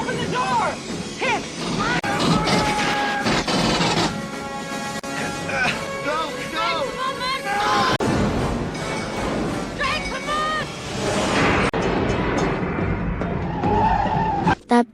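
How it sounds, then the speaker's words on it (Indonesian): A getaway vehicle tears off and skids during a tense escape scene in the 1986 science-fiction film Aliens, loud and sustained under a dense, dramatic music score with crashing impacts. "Dia berhasil narik Hicks, Vasquez, dan Hudson yang udah nangis kejar ke dalam mobil sebelum tancap gas dari sarang neraka itu."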